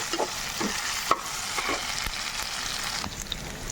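Ginger and spices frying in hot oil in a pan, giving a steady close sizzle broken by a few stirring scrapes and taps, with no one talking.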